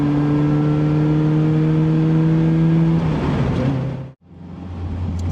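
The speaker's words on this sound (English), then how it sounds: "It's just a controlled acceleration." Caterham 270 sports car engine accelerating steadily, a loud sustained drone rising smoothly in pitch for about three seconds, then easing off through a brief gap before the engine note resumes, close and alone.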